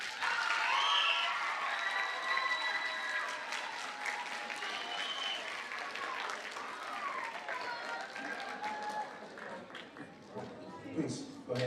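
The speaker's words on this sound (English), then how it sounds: "Let's give these students one more round of applause." A school audience applauds seventh-grade students at a middle school awards ceremony, with dense, sustained clapping mixed with cheering voices that slowly thins over about twelve seconds.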